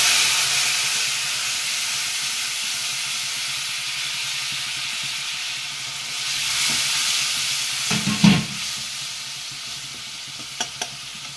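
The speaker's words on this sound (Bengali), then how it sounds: "সমস্ত মশলাগুলোকে অল্প নাড়াচাড়া করে নেব।" Spices and water in a frying pan sizzle and hiss steadily, with a spoon stirring through and a few clinks of utensil against the pan near the end, no speech.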